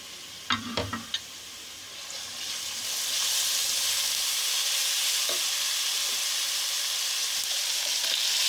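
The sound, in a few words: spices frying in oil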